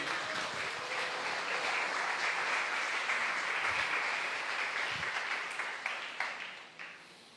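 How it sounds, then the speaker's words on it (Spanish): A church congregation applauds during a sermon, a sustained wash of many hands clapping that stays steady and then thins and fades toward the end. "Les aplauso al Rey de Reyes."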